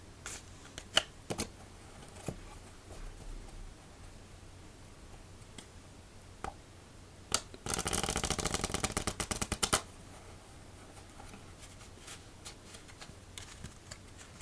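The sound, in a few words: shuffling a Bee Metalluxe silver deck of playing cards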